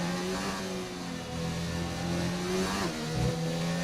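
Carlos Sainz's McLaren race car on track, a loud mid-pitched engine roar that rises and falls as it accelerates, continuous and close with no talking.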